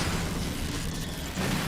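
A boss in a Resident Evil video game is blown apart in a loud, sustained explosion, a dense, booming roar that fills the whole moment with no voices over it.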